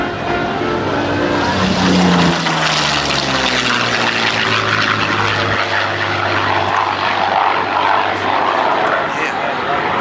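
A Yak-9 propeller warplane performing aerobatics at an air base airshow, its engine a loud continuous drone with shifting pitch as it passes, with a commentator talking over it.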